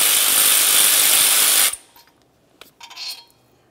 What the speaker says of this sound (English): We'll remove our final two 14 millimeter headed bolts over here.